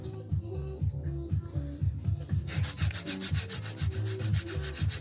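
A nail file shaping acrylic nails during a fill, heard close up as quick rhythmic scratchy rubbing strokes, faster and brighter in the second half, with no talking.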